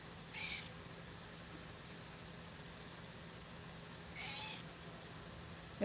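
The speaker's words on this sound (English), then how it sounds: "She's meowing." Two soft, high meows from a cat, spaced a few seconds apart, over a quiet background hum.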